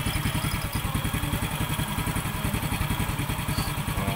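Honda XRM 110 motorcycle engine idling warm after carburetor tuning, a steady, even low putter with regular rapid pulses, close and fairly loud with no talk over it.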